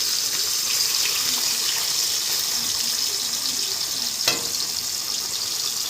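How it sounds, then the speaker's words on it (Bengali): Hilsa fish frying in a pan, a steady bright sizzle with watery crackle running continuously, close and even, with one brief sharp clatter partway through and no talking. "মাছগুলোকে উল্টো দিক করে ভেজে নেব।"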